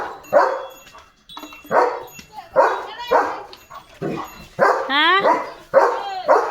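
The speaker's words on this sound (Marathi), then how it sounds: "हा बघा पागल लिओ द जर्मन शेफर्ड" A German Shepherd barks repeatedly at close range in loud, evenly spaced woofs, with some higher yelping calls mixed in between.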